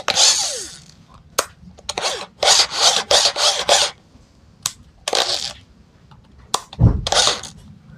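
A JLD 13 mm brushless drill running at speed 1, whirring in repeated short bursts of a few seconds each with quiet gaps between, fairly close and loud, with no talk.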